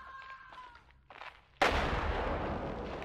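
A grenade bursts in a special-forces video game, one sudden heavy blast that hits hard and then rolls on as a long loud rumble. Fainter game sounds come just before it.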